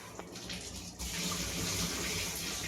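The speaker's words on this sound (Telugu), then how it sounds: "ఫిల్టర్ నీళ్ళు కూడా పడుతున్నాయి బియ్యం" After a quiet second of faint background noise, filtered water from a tap suddenly gushes out in a steady, close splashing hiss while rice is washed for cooking.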